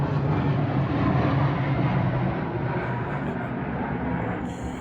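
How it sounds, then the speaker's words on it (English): An airplane passes overhead as a broad, steady roar that slowly fades over several seconds, with no other sounds standing out. "There's an airplane going by."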